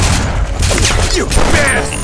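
Loud, rapid video game gunfire fills the scene as a dense, continuous volley of shots with no gaps, with voices partly buried beneath it.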